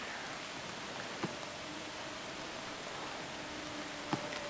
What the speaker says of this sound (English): That is rain. There's rain coming in.